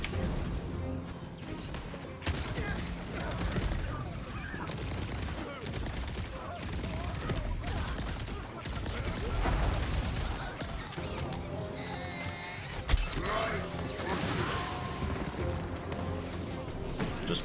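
Pistol gunfire in the looter-shooter game Tiny Tina's Wonderlands, bursts of shots woven into a dense, busy mix of game music and effects throughout, with a sharper crack near the end.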